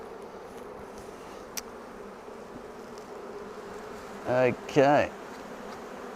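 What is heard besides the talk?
agitated honey bees buzzing at an opened hive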